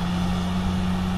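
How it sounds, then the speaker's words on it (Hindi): Heavy Bimal BG65R road grader with a Bimal turbo engine working on an expressway construction site, giving a steady, deep diesel engine drone throughout a brief moment, with no voices. "बहुत ही हेवी ग्रेडर है ये, बिमल कंपनी का BG65R"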